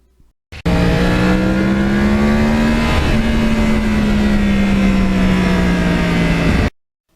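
Yamaha R1 crossplane sport motorcycle riding past lakes, its engine holding a steady loud drone with a brief shift dip midway, close and continuous before cutting off abruptly.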